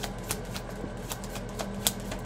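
A deck of tarot cards is shuffled and drawn up close, with repeated crisp riffling bursts and a sharp snap near the end, steady and fairly loud with no talking.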